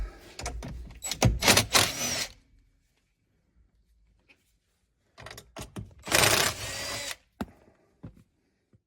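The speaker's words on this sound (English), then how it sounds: "Now remove the 2 top bolts." Bolts with 10mm heads come out of the knee airbag panel of a 2010-2015 Lexus RX350 in two close bursts of tool whirring and clicking, separated by several seconds of near silence.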